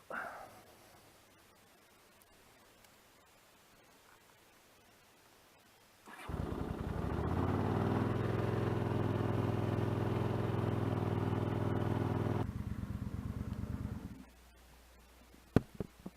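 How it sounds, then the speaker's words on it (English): A 1981 Honda GL500 Silverwing Interstate motorcycle engine cold-starts after a quiet stretch, settling into a loud, steady idle for about eight seconds before cutting off, leaving faint background noise and a few clicks. "cold startup."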